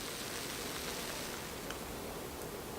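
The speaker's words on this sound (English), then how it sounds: "Seems to be very highly carbonated." Highly carbonated hazy double IPA fizzing in a glass, a steady soft hiss of bubbles with faint crackle running evenly and quietly throughout.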